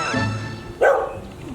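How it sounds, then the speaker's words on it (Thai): A dog in an animated Thai story lets out a single sharp bark partway through, loud and close. Before it there are softer, whiny yips under a murmur of background sound. "ก็มีแต่หมาที่เห่า"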